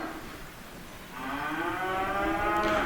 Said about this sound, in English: He's now separated the cows and the calves, and this is what I've got to deal with when I'm working.